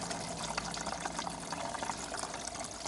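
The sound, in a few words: liquid spilling while filling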